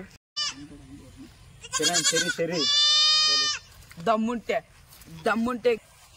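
A goat readied for a Sankranti contest bleats loudly in several long, wavering calls, with people talking around it before and after.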